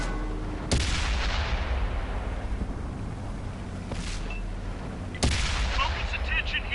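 Tank cannons firing in the video game World of Tanks on PS4, three heavy booming shots spaced a few seconds apart over a constant rumbling battlefield background.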